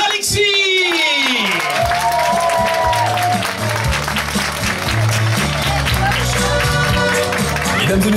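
An audience at a concert in Revin applauds to welcome a singer, steady clapping mixed with crowd noise and loud music from a stage, continuous throughout.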